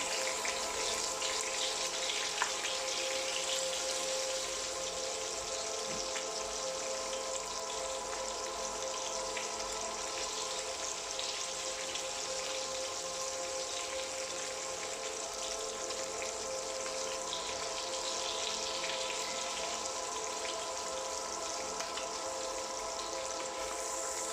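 Liver fries in the centre of a paella pan, giving a steady, continuous sizzle and crackle with a hiss like running water that holds even throughout, close and fairly quiet, with no voices.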